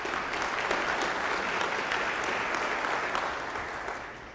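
An audience at a county State of the County address breaks into dense, loud applause that holds steady, then slowly thins out toward the end.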